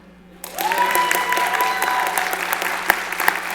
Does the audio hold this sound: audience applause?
yes